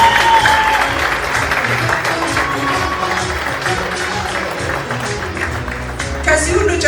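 Audience applause during a trophy presentation on a TV talk show stage, steady mixed clapping throughout with crowd noise and some voices underneath.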